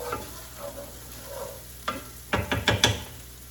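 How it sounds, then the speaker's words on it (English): Onions sizzle softly in a frying pan, then a spoon scrapes and stirs them in a quick cluster of clattering strokes near the end, close and clear with no talking. "Give that a nice stir. And these onions have been cooking for approximately 5 minutes already."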